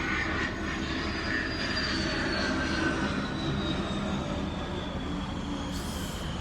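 An airplane drones overhead with a continuous broadband engine roar and slowly gliding tones, steady and fairly loud throughout with no talk.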